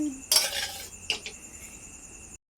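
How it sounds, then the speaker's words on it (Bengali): Boiled potatoes frying in a pan, heard as a short clatter of a metal spoon against the pan over a low steady sizzle, close and fairly quiet, with no talk. "ভালোভাবে লাল লাল করে ভেজে নেব।"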